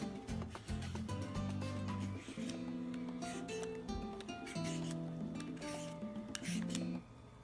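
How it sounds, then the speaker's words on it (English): Repeated rasping scrapes of a peeler stroking along a cucumber's skin, steady and close, with quiet music playing in the background. "I'm gonna peel our cucumber before we start cutting."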